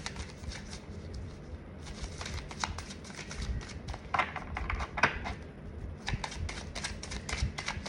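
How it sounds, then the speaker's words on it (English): Tarot cards being shuffled by hand, a quiet, close run of papery riffles and soft clicks that comes in repeated bursts with no talking. "let me put these back in here and shuffle to redistribute"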